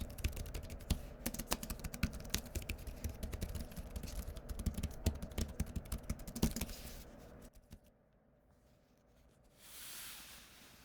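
Typing on the clicky keys of an iPad Mini 7 keyboard case, a fast continuous run of close, crisp key clicks that stops abruptly near the end, leaving quiet room tone.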